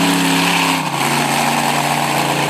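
Buckshot monster truck engine roaring at full throttle as the front end lifts into a wheelie at a night event in Manassas, Virginia; loud, sustained and close, with the pitch dipping briefly then holding steady; no talking.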